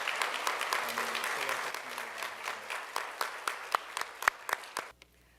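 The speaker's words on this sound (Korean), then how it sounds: "여러분 축하의 박수 해주시면 감사하겠습니다" Congratulatory applause from a church congregation after a Korean evangelism training ceremony: a dense round of clapping that fills the room, then thins into scattered individual claps and stops abruptly near the end.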